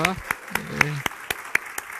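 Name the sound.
applause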